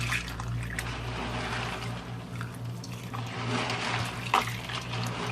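Beans being washed by hand in water, a steady close sloshing and trickling with small splashes and drips, continuous over a low background hum and no talking.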